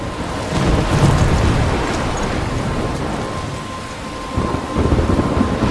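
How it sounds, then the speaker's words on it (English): A thunderstorm in the game Life Is Strange: heavy rain pours steadily while rolling thunder rumbles loud and close, swelling early and surging again near the end. "I'm trapped in a storm."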